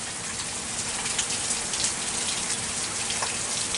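Heavy rain pours during a hurricane, a dense, constant hiss of drops pattering on surfaces, with occasional louder splashes and no talking.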